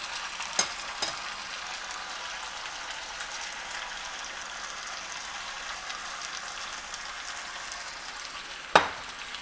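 Six slices of pork belly fry in a small pot, a steady soft sizzle with a few sharp pops and crackles, one louder spit near the end, no talk.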